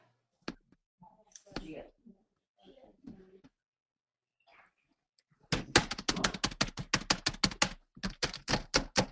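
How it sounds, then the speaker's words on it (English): Computer keyboard keys hammered rapidly and hard, a dense run of loud close clicks and taps following a few scattered quiet voices during an online class call. "Sounds like somebody's banging on their keys."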